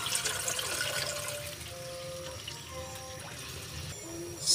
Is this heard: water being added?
yes